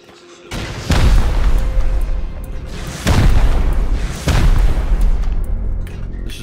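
Heavy rocket explosions in the game Rust blast through building floors, several loud deep booms in sequence with rumbling tails between them, close and dominant.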